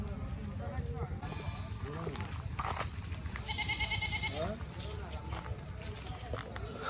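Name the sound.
sheep and goats bleating at a livestock market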